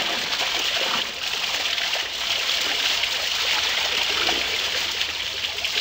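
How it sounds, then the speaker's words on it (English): A small waterfall in a video game gives off a steady, even hiss of rushing water that holds constant for several seconds with no speech over it. "There's a nice little waterfall."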